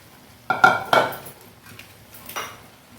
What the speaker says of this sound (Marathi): व्यवस्थित मिक्स करून घेऊया भाजी व्यवस्थित मिक्स करून झाली आहे